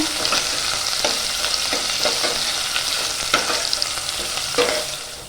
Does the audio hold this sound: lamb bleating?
no